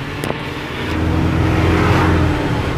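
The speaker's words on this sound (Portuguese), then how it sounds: "Mas agora estamos aí acelerando embora aí, tancão cheio" Diesel truck pulling away on the road, engine rumbling low and then building into a loud, sustained acceleration after about a second, close and without speech.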